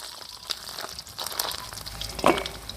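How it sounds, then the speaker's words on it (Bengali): Dried fish being fried until reddish in white oil for a bamboo-shoot curry, giving a steady soft sizzle with faint crackles and a sharper pop or scrape near the end, no talking. "শুটকিগুলোকে লাল লাল করে ভেজে নেব"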